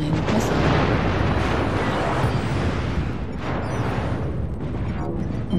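A missile explosion in MechWarrior Online, with a Catapult mech in the fight, booms as a sustained, dense rumble that stays loud throughout amid other battle noise.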